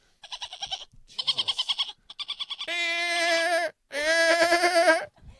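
A voice imitating a dolphin, rapid pulsed chattering bursts followed by longer high warbling squeals, close and loud, sounding more like a bleating sheep.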